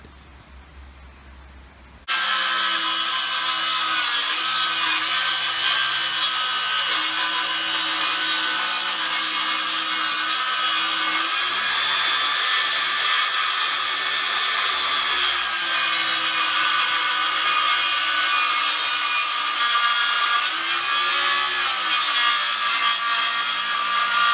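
Dewalt DCS391 cordless circular saw on a 4 Ah battery cutting clamped 15 mm plywood, a loud, close, continuous high whine and rasp that starts abruptly after a brief quiet moment and holds steady to the end.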